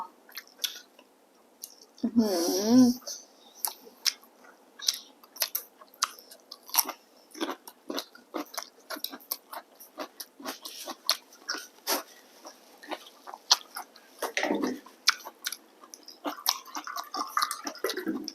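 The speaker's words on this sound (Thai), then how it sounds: "แล้วกัดเข้าไปแบบกรอบๆกรุบเข้าไป" Close, crisp chewing of fried crab on bread, rapid crunching bites repeating steadily, with a brief vocal sound near the start.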